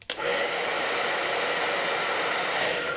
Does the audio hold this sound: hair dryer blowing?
yes